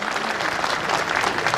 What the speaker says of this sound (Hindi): जोरदार तालियों के साथ आपका स्वागत